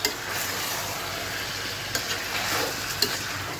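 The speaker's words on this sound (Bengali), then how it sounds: "মশলাগুলো কিন্তু মোটামুটি ভাজা হয়ে গিয়েছে। এখন জাস্ট এই যে মাংসগুলো দিয়ে দিচ্ছি।" Chicken meat hits hot oil with frying spices, giving a steady, close sizzle with a few stirring knocks and scrapes.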